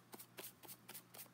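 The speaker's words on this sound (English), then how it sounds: "I always take a long time shuffling" Tarot cards from a handmade deck being shuffled by hand, four quick riffling bursts in a steady rhythm, close and fairly quiet with no talking.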